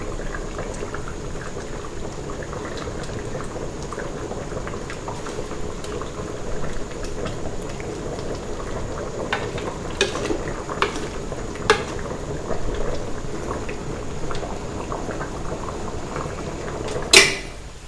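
Thai chicken and pumpkin curry with fermented fish sauce simmering in a pot as vegetables go in, a steady bubbling hiss with a few soft clinks and knocks of utensils near the end, no talk.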